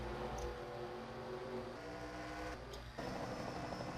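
NASCAR Camping World Truck Series trucks racing at Lucas Oil Raceway, engines droning and shifting pitch as they pass down the back straight into a corner, heard at a distance without talk.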